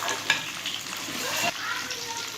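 Chicken pieces fry gently over low heat for chicken bukhara, a soft continuous sizzle with a brief stir and clatter, close and alone.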